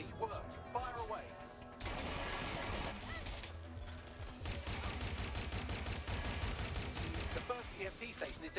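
Video game combat with sustained rapid gunfire and crashing impacts, the bursts thick and continuous over a rumbling backdrop, with game voices speaking in between.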